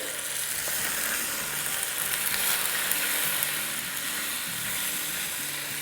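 Medium-cut green beans and cauliflower florets fry in a hot pan for an Indian vegetable khichdi, giving a steady, close broadband sizzle with faint stirring clatter and no voices.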